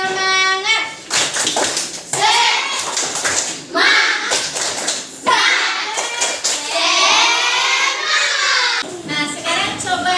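A fourth-grade classroom of children performs a rhythmic spirit clap, their voices chanting loudly together while sharp hand claps punctuate the rhythm at intervals.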